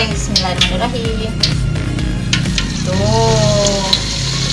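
Peanut crackers (peyek kacang) frying in hot oil give a steady close sizzle with crackling pops, while someone speaks briefly over the cooking.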